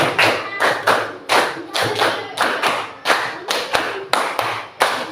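An Indonesian classroom claps in unison in sharp, counted bursts: clusters of sync claps separated by short pauses, close and loud, with almost no talking.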